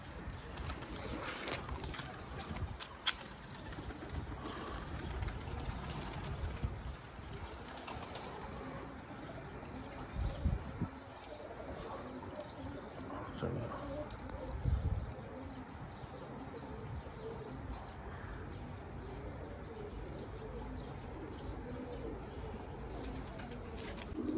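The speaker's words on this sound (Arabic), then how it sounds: "طارن عندنا ثلاث طيور" Pigeons in a rooftop loft cooing and flapping through steady outdoor ambience, with soft coos and occasional wing bursts under continuous background noise; no talking.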